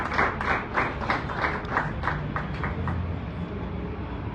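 An audience at a faith workshop claps steadily for a couple, a continuous wash of applause with rhythmic clustered claps throughout, moderately loud and close, with no talk over it.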